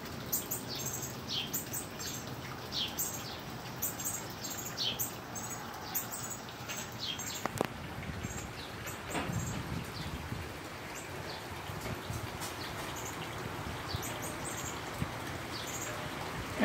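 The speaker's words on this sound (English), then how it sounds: "Man, you can't even see the birds on the power line right now." Birds perched on a power line calling outdoors, with repeated high chirps and tweets over a steady rain-like hiss and background noise, fairly faint and distant throughout.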